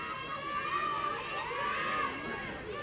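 A crowd at a 2016 Massachusetts Division 8 high school baseball championship between Whitman and Braintree keeps up a steady, fairly loud roar of cheering and shouting, with voices mixed into the sustained din throughout.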